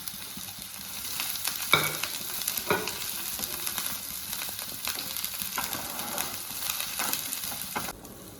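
Chopped vegetables sauté in hot coconut oil with a continuous close sizzle, interrupted by repeated scraping and stirring strokes of a spoon against the pan, and no talking.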